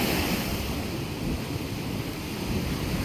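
Rough storm surf pounding Thalaiyadi beach, a steady, loud roar of breaking waves mixed with heavy wind buffeting the microphone, continuous throughout with no speech.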